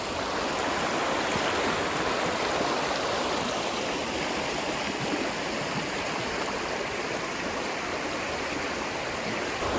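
A stream of very cold, muddy water after overnight rain, rushing steadily in a broad, loud, unbroken wash close by, with no speech over it.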